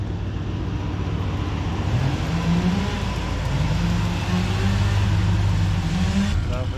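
A truck idles and creeps forward through a fence line before backing up, its low engine drone steady and close with shifting pitch as it moves, while people talk over it.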